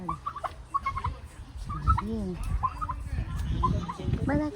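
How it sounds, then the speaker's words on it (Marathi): A turkey gobbles repeatedly at a resort farm, bursts of warbling calls mixed with other animal noises while several people talk nearby. "हा टर्की. टर्की."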